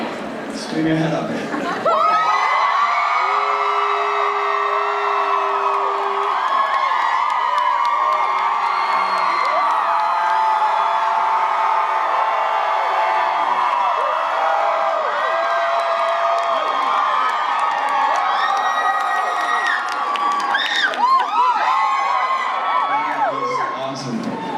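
Audience at a Walking Dead convention panel in Cincinnati screaming, whooping and cheering loudly and continuously for over twenty seconds, with scattered laughter and shouts rising and falling throughout.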